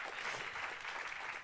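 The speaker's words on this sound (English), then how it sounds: "You can applause." Brief burst of audience applause welcoming a speaker onto stage at a conference on open source food systems, even and continuous for a moment.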